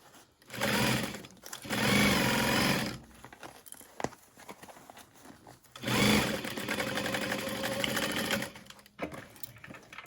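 A sewing machine stitches a handbag seam within the seam allowance in two loud, steady bursts of whirring, separated by a pause filled with small handling clicks.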